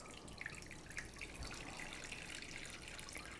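Hot Japanese jelly coffee poured steadily into a container, a continuous liquid splash and trickle at close range with no talking.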